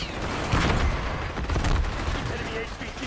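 Video game gunfire crackles in dense, rapid bursts, loud and close, mixed with voices and explosions.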